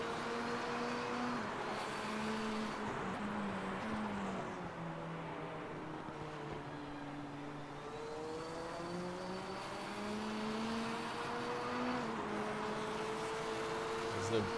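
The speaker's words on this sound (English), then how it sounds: "You hear the wind coming over the car and the Audi sucking in behind it." Group C and GTO classic race cars scream down the front straight in a racing game, engine notes gliding up and down over a constant wind rush, with someone talking over them.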